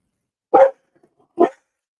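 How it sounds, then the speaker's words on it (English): Two sharp dog barks, spaced almost a second apart, close and loud against an otherwise quiet room. "now she's barking at Bruce Willis."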